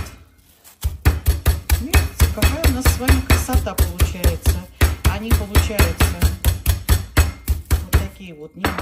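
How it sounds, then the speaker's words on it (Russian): A meat mallet pounds thin chicken cutlets in a steady, rapid series of close, loud thuds on a board, continuing for several seconds with a brief pause at the start. "берем наш молоточек и не сильно, потому что курица очень нежная"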